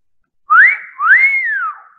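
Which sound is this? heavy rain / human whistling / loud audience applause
human whistling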